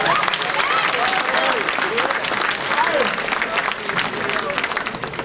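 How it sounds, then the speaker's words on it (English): An audience at a speaking event in Thorp, Wisconsin claps steadily and loudly throughout, a dense wash of hand clapping with scattered voices and whoops mixed in. "Give her a hand clap."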